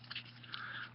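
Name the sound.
dog chewing noises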